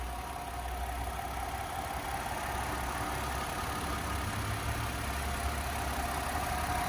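A 3.0-liter V6 engine in a 2011 Ford Escape Limited AWD idles steadily and smoothly, a low continuous rumble with an even hum and no revving, close by with no talking.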